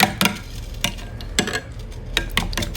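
Yogurt, egg and oil being mixed in a bowl, a steady run of soft wet stirring strokes with small rhythmic clicks of the utensil against the bowl, close and alone.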